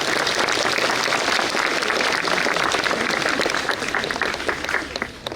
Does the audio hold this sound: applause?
yes